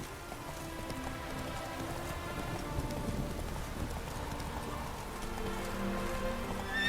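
Roach the horse in The Witcher 3: Wild Hunt, clip-clopping hooves in a steady rhythm under a constant wash of rain, moderately loud and continuous, with a faint whinny-like tone.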